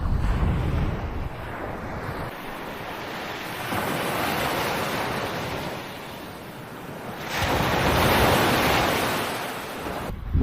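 Waves break and wash up a Cornish beach, a loud, broad roar that swells and recedes in surges, with wind buffeting the microphone and no talking.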